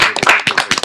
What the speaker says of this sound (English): So, Let's clap. Let's clap.